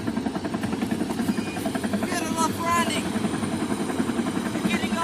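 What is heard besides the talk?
helicopter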